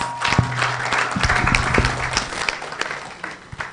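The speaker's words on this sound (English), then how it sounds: "Another round of applause for Prof." An audience at an economic symposium applauds a professor after his talk, a moderate spread of clapping with a few sharp individual claps standing out, fading toward the end.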